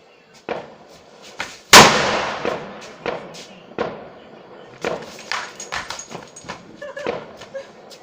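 Firecrackers bursting outdoors: a string of sharp bangs at irregular intervals, one very loud close blast early on, then smaller pops and cracks of varying distance.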